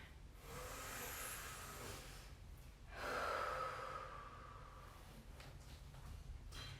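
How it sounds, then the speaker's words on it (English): Slow, deep breaths during a yoga stretch, a long soft inhale and exhale repeated, close and quiet with no talking. "Let's just take 3 or 4 more breaths together."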